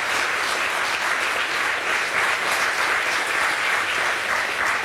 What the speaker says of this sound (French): Vous pouvez l'applaudir quand même, encore une fois.